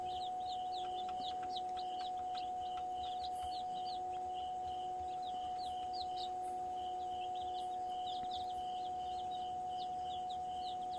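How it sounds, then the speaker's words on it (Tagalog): Day-old Rhode Island Red chicks peeping in a brooder, a cluster of high thin cheeps in irregular bursts over a steady electrical hum, soft and close, with no talking. "Gutom yung sisiw ko"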